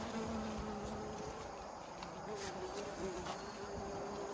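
Bees buzzing around tall crotalaria and sunflower plants in a garden, a soft continuous drone with wings passing near and far over faint outdoor background noise.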